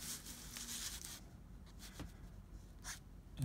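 A pen scratches and stipples across paper while copying a drawing of a map, a faint, close, dry scraping with soft taps and short strokes.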